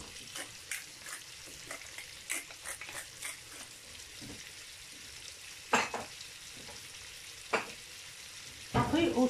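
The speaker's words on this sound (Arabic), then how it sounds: "نحطو طريفات السومو بحال هاد الشكل، وديما تكون البوطه منقوصه باش الزبده ما تحرقش لينا" Salmon pieces sizzle steadily in butter in a pan, a soft continuous fry with scattered pops and a few louder clinks and scrapes of utensil against pan, no voices.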